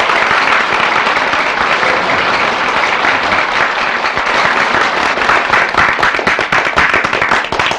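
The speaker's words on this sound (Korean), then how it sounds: "다시 한번 열렬한 박수를 보내줍시다" A crowd gives loud, enthusiastic applause at a farewell gathering, with dense overlapping clapping that grows more sharply rhythmic toward the end.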